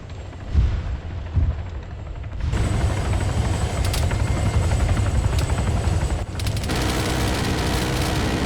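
Helicopter rotor and engine from the Arma 3 military game, a steady loud thrum running almost throughout, with bursts of gunfire and a busier stretch of firing near the end.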